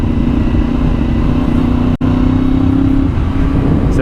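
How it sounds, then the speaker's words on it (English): Loud, steady engine drone of a motorcycle cruising, a constant rumbling hum with one brief dropout midway. "I'm on my motorcycle right now,"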